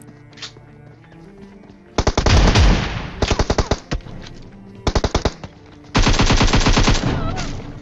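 Shotgun and AKM fire in the PUBG video game comes as loud, close bursts: rapid automatic volleys and sharp blasts separated by short quiet gaps.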